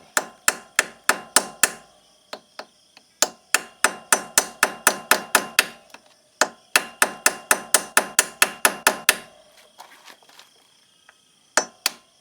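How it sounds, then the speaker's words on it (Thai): Sharp metallic hammer strikes on a motorcycle steering bearing race in rapid bursts of five to eight blows, pausing briefly between bursts, close and loud. "เรากำลังจะตอกเขี้ยวตอนนี้ไม่ต้องตอกเยอะครับ"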